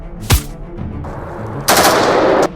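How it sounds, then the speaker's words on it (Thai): Sharp gunshots crack close by, a single loud burst followed by a denser spray of gunfire, with no voices heard. "เสียงปืน"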